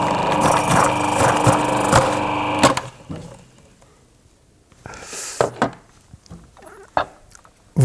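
A Magimix CS5200XL food processor dices zucchini into small cubes, whirring with a loud motor hum and rapid chopping for under three seconds before stopping, followed by clattering knocks as the bowl and dicing accessory are handled.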